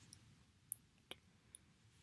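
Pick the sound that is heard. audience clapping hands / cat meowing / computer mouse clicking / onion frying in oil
computer mouse clicking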